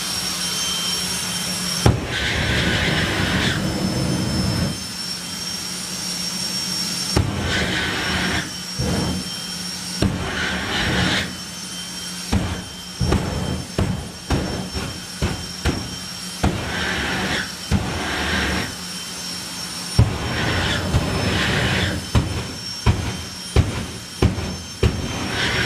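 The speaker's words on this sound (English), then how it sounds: "Here we go then, turning up the jets." Two jet-powered drag racing cars at the 2023 FIA Main Event drag meet roar together in a loud, sustained whine and rumble, with repeated sharp bursts and pops of throttle toward the end.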